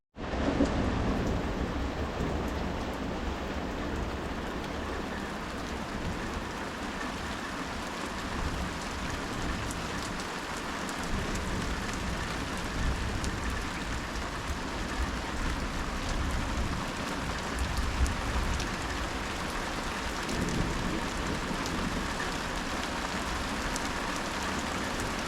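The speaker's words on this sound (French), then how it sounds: "on est bloqué, il y a des orages partout" Steady rain pours during a mountain thunderstorm, a continuous broadband hiss with low rumbling thunder underneath, constant and enveloping for the whole stretch with no voices.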